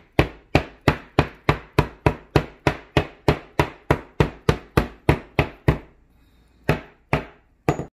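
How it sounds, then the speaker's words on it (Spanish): A steak is pounded very thin with a hammer on a wooden board, giving about twenty sharp, loud, evenly paced thuds. A brief pause comes near the end before a few more blows. "And hammer it. Because the steak has to be very, very, very thin."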